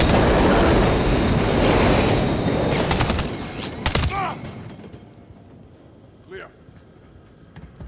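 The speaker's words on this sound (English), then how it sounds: "Another train coming." Train rushing through a tunnel in a Call of Duty mission set in London, a loud roaring rumble with a metallic clatter around the three-second mark that fades away, followed by a faint wheel squeal.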